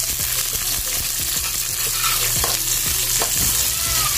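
Tomatoes sauté in a pan for a chayote and chicken dish, with a continuous close sizzle of frying and occasional scraping stirs.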